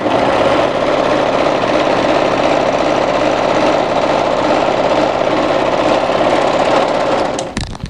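Overlocker finishing the sleeve hem of a winter tee dress, a continuous loud buzzing hum with fast stitching chatter lasting about seven and a half seconds, close up and alone, ending with a brief clatter.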